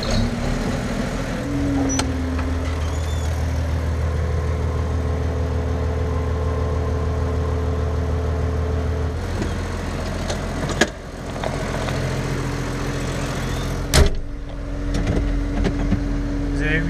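Tractor driving along a road toward a field to spread solid fertilizer on rapeseed, its engine a steady close mid-pitched drone throughout, with a couple of brief knocks and clatters near the end.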